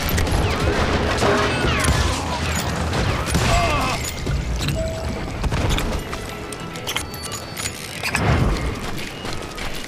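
Gunfight in the Western shooter Call of Juarez: Gunslinger, with dense, overlapping gunshots, booms and clattering impacts continuing loudly throughout, a voice occasionally cutting in.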